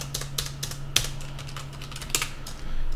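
Keyboard shortcuts tapped on a computer keyboard while working in Unreal Engine 5: several crisp, close key presses in an uneven rhythm over a low steady hum.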